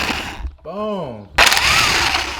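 Loud power-tool whine and grinding on a Honda Civic rear brake as the dust shield is forced off, with a sweeping tonal whirr midway, then a sudden burst of harsh broadband scraping and rattling.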